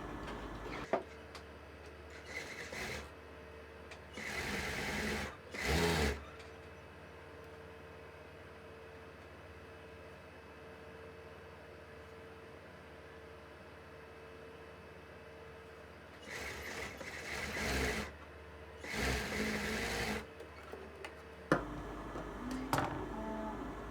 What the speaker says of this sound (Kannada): ಲೈನಿಂಗಿಗೆ ಈ ಥರ ಫೋಲ್ಡ್ ಮಾಡ್ಕೊಂಡು ಲೈನಿಂಗಿಗೆ ಒಂದು ಸ್ಟಿಚ್ ಬಿಡ್ತಾ ಇದ್ದೀನಿ